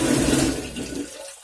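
A hose pours water into a container while home-brewing beer outdoors, a steady close rushing splash that thins out near the end as the flow stops.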